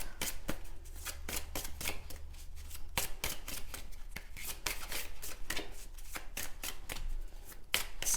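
A deck of oracle cards shuffled and cut by hand, close and fairly soft, with a dense run of quick riffling flicks and sharp card snaps throughout.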